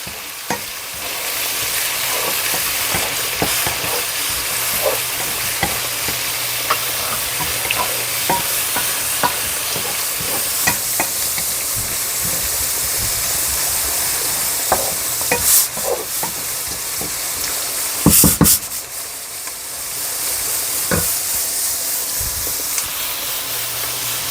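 Peas and capsicum sizzle and fry with onions in a hot pan, a steady hiss broken by repeated scraping and stirring clatter, with a louder burst of sputtering and utensil knocks toward the end, no talking.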